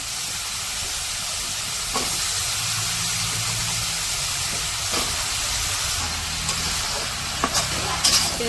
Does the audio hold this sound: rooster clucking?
no